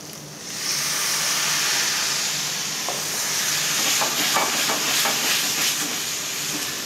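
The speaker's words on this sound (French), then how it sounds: "Maintenant, on peut déglacer en vin blanc." A risotto pan is deglazed with white wine and gives off a steady, loud sizzling hiss, with light scraping and stirring clicks toward the end.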